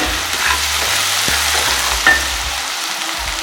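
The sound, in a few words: sautéing onions with salt in a pan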